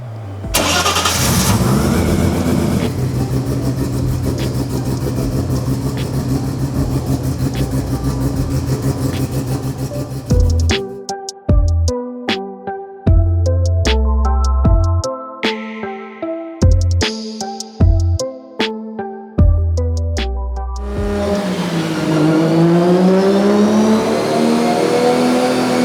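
Carbon-bodied Nissan R32 GT-R race car on a dyno, engine droning steadily and loudly, then a sequence of sharp revs and throttle blips with abrupt drops, settling into a lower rising note at the end.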